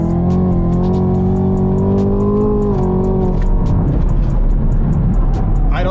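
A Chevrolet Camaro ZL1 pulls hard on the interstate, its engine note climbing steadily then shifting into a dense, loud roar with road and wind noise, heard from inside the car with no talk.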